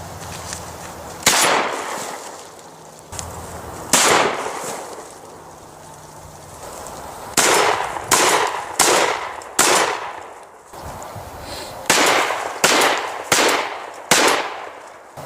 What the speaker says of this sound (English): Okay, we're gonna shoot a bag of flour.